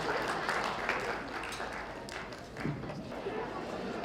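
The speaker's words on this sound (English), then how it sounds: "Give yourselves a round of applause for waking up early." Audience clapping and applause at an elementary school spring band concert, steady and fairly loud, filling the room for the full stretch with mixed crowd noise.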